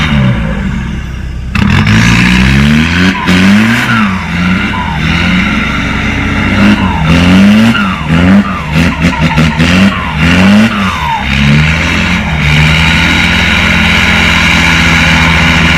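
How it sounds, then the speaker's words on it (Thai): A car engine revs loudly through its exhaust, rising and falling in repeated throttle blips, then settles into a rough idle between bursts. "โอ้โหเสียงท่อ หวานจริงๆ"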